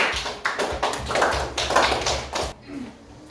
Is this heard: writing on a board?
no